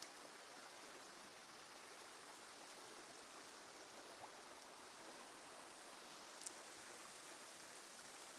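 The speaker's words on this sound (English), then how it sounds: "You hear the water there, just gently laughing." Water flows gently in a stream as a steady, soft, broadband rush, heard continuously at a moderate distance with no voices over it.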